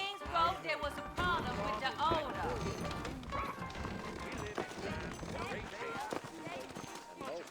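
Horse hooves clip-clop in the Red Dead Redemption video game, a run of irregular thuds and clatter with an occasional whinny, heard under ongoing spoken dialogue and game noise.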